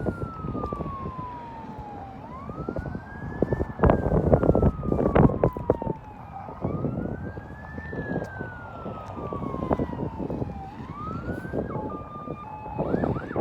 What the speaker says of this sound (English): It's probably not the police. I think it's an ambulance.